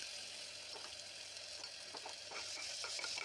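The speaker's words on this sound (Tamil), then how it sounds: "கொஞ்சம் சோம்பு, பட்டை, ஏலக்காய், கிராம்பு எல்லாம் போட்டு அது வதங்கணுன்னா" Fennel seeds, cinnamon, cardamom and cloves sauté in oil and ghee in a cooker, giving a faint, steady sizzle with light stirring scrapes.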